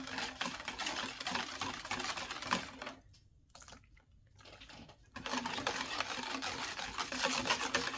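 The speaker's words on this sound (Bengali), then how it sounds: "দুধ, সুগার, এগ একসাথে আমি মিক্স করে নেব এখন" Milk, sugar and egg whisked together by hand in a bowl for pancake batter, a rapid rhythmic clicking and tapping that stops briefly partway through and then resumes.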